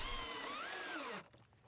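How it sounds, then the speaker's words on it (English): A power drill drives a self-starting finish head screw through a concealed decking clip into a joist, whining steadily with the pitch rising and falling, then stopping abruptly into quiet. "The conceal lock clips are secured to the joist with self-starting finish head screws that are driven in at a 45-degree angle."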